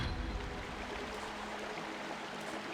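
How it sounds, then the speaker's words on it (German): Water flows steadily through a channel in Zelda: Twilight Princess HD, a soft, even rushing stream with no breaks. "jetzt fließt hier das Wasser"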